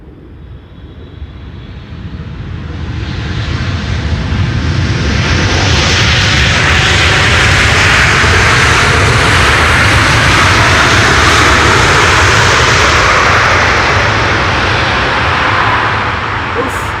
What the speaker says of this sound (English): This is China Southern cargo arriving from Shanghai in China.